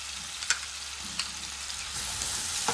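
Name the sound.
frying onion, ginger, garlic and green chili paste spices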